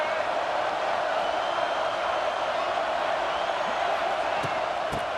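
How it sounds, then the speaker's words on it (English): Dense, continuous roar of a large stadium crowd in the video game EA Sports College Football, Nebraska vs Michigan, steady and distant-sounding, with a few faint sharp accents near the end. "This crowd bringing the energy and noise early."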